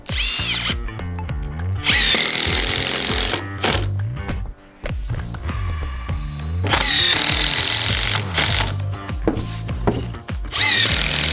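A power drill driving plug screws into composite deck boards on an outdoor deck build, loud close whirring bursts that rise and cut off repeatedly in short runs with brief gaps between.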